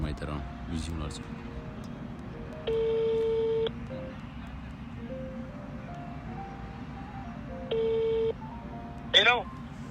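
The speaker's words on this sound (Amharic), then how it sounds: "ቢዚ ነው ስልኩ።" A phone call meets a busy line: two separate stretches of steady electronic beeping tones sound over a noisy background, with a few brief, faint chirps near the end.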